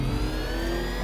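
Batmobile engine from Batman Arkham Knight running with a steady, loud drone and low rumble, a sustained hum with faint whining overtones, no talking.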